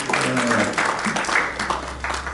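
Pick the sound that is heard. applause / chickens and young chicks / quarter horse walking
applause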